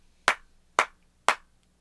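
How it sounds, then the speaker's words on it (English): Three sharp, evenly spaced hand claps ring out close and alone. The room is otherwise quiet, and they sound like a brief burst of applause. "Everybody give her a round of applause."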